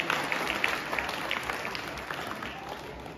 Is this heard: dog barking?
no